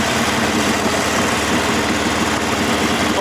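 A Harley-Davidson Iron 883 engine brakes while a beginner rider slows into a corner, giving a steady, loud, continuous rumble with a dense low throb and a wind-washed hiss, unbroken for the whole stretch.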